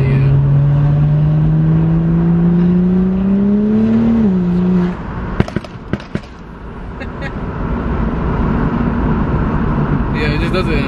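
A car's engine revs at higher RPM, its exhaust then firing a quick cluster of sharp pops and bangs before settling back into a steady idle rumble.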